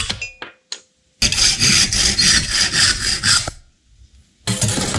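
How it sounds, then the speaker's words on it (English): Handsaw ripping a wooden board lengthwise, with a rapid, loud rasping stroke rhythm lasting about two seconds, then a pause, then another burst of close sawing. "I'm gonna rip it in half with a handsaw"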